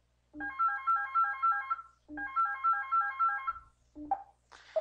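LiveZilla live-chat software plays its notification sound for a new external chat request, a bright electronic ringtone melody heard twice in full, followed by short fragments, clean and alone with no talk.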